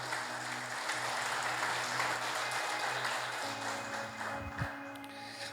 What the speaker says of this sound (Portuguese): Aplauda o Senhor Jesus